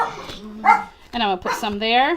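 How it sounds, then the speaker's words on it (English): Dogs bark indoors in a few short bursts, close and fairly loud, overlapping a woman's speech. "Excuse the dogs. They like to bark all the time."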